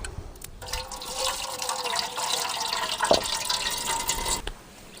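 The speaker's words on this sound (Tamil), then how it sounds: "அந்த பருப்பு நல்லா சுத்தமாக கழுவி எடுத்துக்கணும்" Water splashes and swirls in a container up close as moong dal lentils are washed, with a running trickle and a brief clatter midway, no voices.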